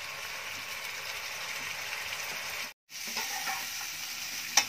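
Lote fish (Bombay duck) sautéed in a pan gives a steady, dense sizzle with soft stirring scrapes; the sound cuts out for a moment and then resumes, ending with a sharp utensil tap.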